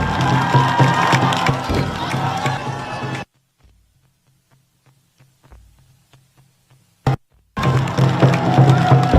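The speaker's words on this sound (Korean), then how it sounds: "여러분 뜨거운 박수로 맞이해 주시기 바랍니다." A large crowd cheers and claps loudly at Yoon Suk-yeol's campaign rally in Ulsan, then cuts off abruptly to near silence before the cheering bursts back in at full volume.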